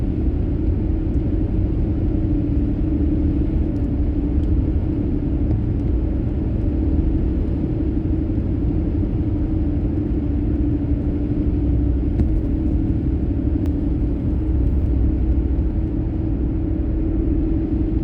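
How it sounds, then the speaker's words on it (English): A truck with a covered trailer hauling wood chips approaches on a country road, heard as a steady, loud engine and tire rumble that lasts throughout with no clear peak. "This truck that's coming, it's got a covered wagon, and that's usually because he's hauling chips."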